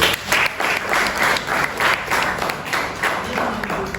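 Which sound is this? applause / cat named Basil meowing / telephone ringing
applause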